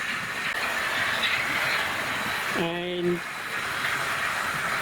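An Oxford Rail class N7 model locomotive runs on a layout with a steady mechanical whir and rumble, broken midway by a short two-tone whistle-like hoot; one brief word is spoken.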